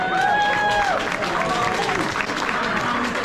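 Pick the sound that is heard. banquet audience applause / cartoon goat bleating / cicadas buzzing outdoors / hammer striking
banquet audience applause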